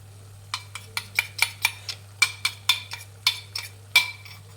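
A spoon scraping and clinking against a pan while mango puliyogare mixture is stirred, about fifteen sharp rhythmic metallic strokes close up over a low steady hum, no talk.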